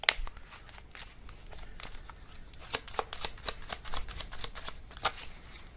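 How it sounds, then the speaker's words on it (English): Oracle cards being shuffled by hand close up: a quick series of crisp riffling and slapping flicks with a sharp snap at the start, no talking. "let me get a couple more oracle cards as well"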